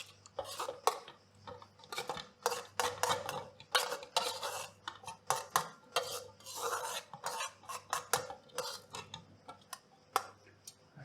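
Spoon and bowl clatter as grated cucumber goes in for homemade tzatziki: a long run of quick, light clicks and scrapes in an irregular rhythm, close and fairly quiet.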